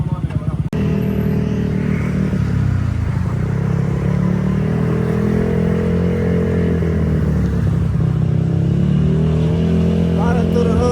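Motorbikes ride through city streets in Pattaya, their engines giving a loud, continuous droning hum that rises and falls slightly throughout, with some voices faintly mixed into the traffic noise.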